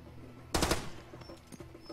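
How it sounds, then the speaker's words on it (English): A single loud burst of automatic gunfire in the video game Far Cry 2, close and sharp, followed by fainter scattered clatter. "Oh wait, I'm shooting a man."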